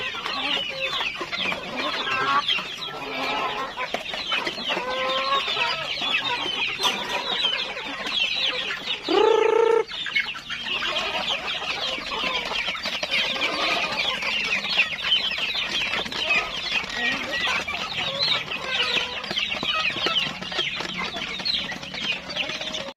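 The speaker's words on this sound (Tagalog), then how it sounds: "sa mga manok yan wala akong pinulit sila so feeding time ngayon pati itong mga bantan bantam" Farm chickens and bantams cluck and chatter continuously at feeding time, a dense close flock with overlapping calls and one louder squawk partway through.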